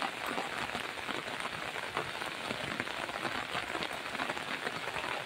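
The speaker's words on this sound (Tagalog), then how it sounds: "naulan na guys" Steady rain falling in a botanical garden, a dense patter of drops on leaves and surfaces, continuous and close with no talk.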